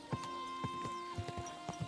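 Horse hooves clip-clop in steady, evenly spaced beats in the video game Kingdom Come Deliverance 2, fairly close and moderately loud, with a possible brief whinny mixed in.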